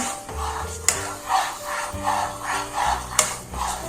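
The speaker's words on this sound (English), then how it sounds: "Keep stirring. You want to make sure it's evenly cooked." Thick lobster mac and cheese sauce stirred in a pot, a soft rhythmic scraping and rubbing that swells and fades in repeated strokes, close and steady, with a couple of sharp clinks from the spoon against the pot.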